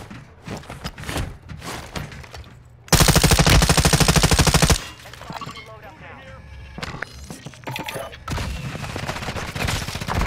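Warzone 2 battle royale gunfire: a long, loud burst of rapid automatic fire, dense and continuous for about two seconds, between scattered shots and game noise, with players talking over the action.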